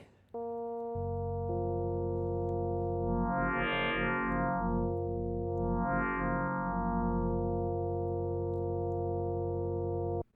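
A sustained FM synthesizer tone holds steady while its timbre twice swells brighter and buzzier as the modulator level rises, then settles back, continuing alone until it stops.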